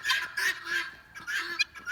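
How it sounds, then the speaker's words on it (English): Farm fowl on a rural property, goose-like birds, cackle and honk noisily in several quick bursts, close by and fairly faint, with no one talking. "the birds are going a little crazy now. They're going crazy, cackling."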